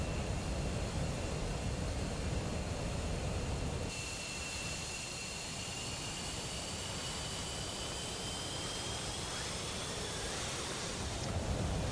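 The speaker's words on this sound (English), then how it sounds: "Wouldn't be an F-15 without listening to the engines go whack." F-15 twin jet engines in a video game, a loud steady roaring rush with a high whine, holding constant throughout with a slight shift in tone partway.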